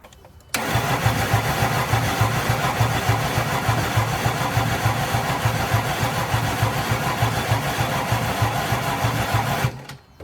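An abandoned old diesel Mercedes engine cranks and catches abruptly, then settles into a steady, rough, chugging idle that runs loud and close for several seconds before cutting off near the end.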